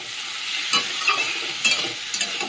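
Katla fish oil sizzles with vegetables in a pan, a bright steady hiss broken by three or four scraping spatula stirs, close and fairly loud, without speech.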